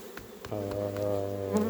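Honey bees buzz around a small hive swarm, a steady close-up droning hum that swells in after a few soft knocks and carries on without pause.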